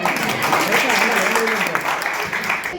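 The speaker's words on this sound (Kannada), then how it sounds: "ಚಪ್ಪಾಳೆ" An audience applauding during a short stage play: a sustained wash of clapping at close range that lasts about three seconds, with voices mixed in underneath.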